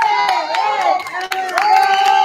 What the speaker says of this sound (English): Keep on clapping as she comes on stage